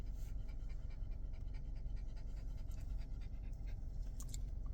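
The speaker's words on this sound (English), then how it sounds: "That's a lot of panting." A dog pants close by in a quick, steady rhythm of breaths that continues throughout at a low, even level.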